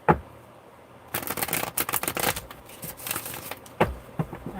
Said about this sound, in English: Let's get another good shuffle in here.